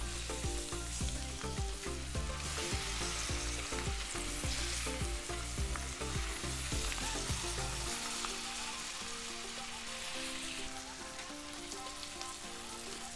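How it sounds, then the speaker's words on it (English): Ribeye steaks fry and sizzle in butter on a hot flat top griddle, a loud, steady crackling hiss with scattered pops and spatter that runs throughout and eases slightly toward the end. "we're going to cook and then baste the steaks over here"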